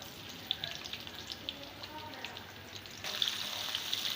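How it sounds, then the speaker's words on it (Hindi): Onion frying in hot ghee for beef nihari gives a faint, even crackle with scattered small pops, growing slightly louder and busier partway through. "ये प्याज हम घी में शामिल कर देंगे"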